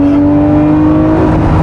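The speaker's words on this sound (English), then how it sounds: "I'm gonna give it gas one more time." A Lamborghini Murcielago LP640 accelerates hard in third gear, its engine holding a loud, steady harmonic drone that climbs slightly in pitch over less than two seconds, close and alone with no talk.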